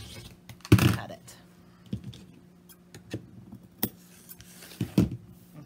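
Scissors or a rotary cutter slicing fabric along a ruler to trim a finished Christmas pillow ornament, heard as a few scattered soft clicks and thunks at close range with quiet gaps between them.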